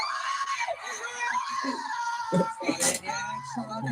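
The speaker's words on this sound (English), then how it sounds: "The screams." A wrestling crowd screams at a WWE Backlash 2022 match, a continuous loud roar with rising shrieks and swells, with a voice talking over the din.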